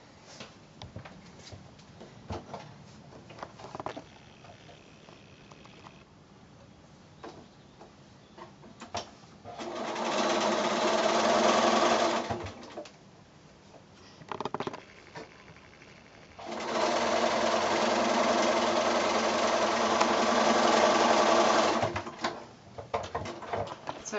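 A sewing machine stitches quilt block strips together for a Friendship Star block, running in two sustained bursts of a few seconds each, with quieter handling between them.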